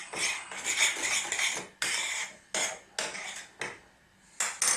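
A spoon scrapes and clinks steadily against a bowl while curry powder spice blend is stirred, in close rhythmic bursts with short pauses and no talking.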